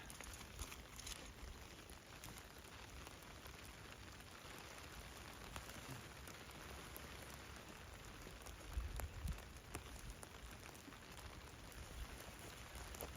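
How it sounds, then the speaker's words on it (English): Steady rain falling on a tent beside a frozen lake, a continuous soft patter and hiss at a constant level, close and even, with a few slightly louder drops near the end. "Okay, so the rain is picking up."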